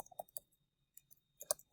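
Computer mouse clicks, a few faint, quick taps in a quiet room.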